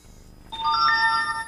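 A phone's text message alert tone rings out alone, a short bright melodic chime of a few layered ringing notes that sustain briefly and then fade.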